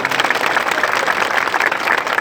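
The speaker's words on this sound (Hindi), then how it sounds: "जोरदार ताली बजाएं इस प्रशासन के लिए भी।" A large audience at an outdoor religious peace-march gathering claps loudly and steadily, a dense continuous wash of applause with no talk over it.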